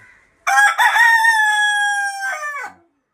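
A native rooster with long tail feathers gives one loud, close, drawn-out crow lasting about two seconds and ending in a falling tail, with quiet before and after.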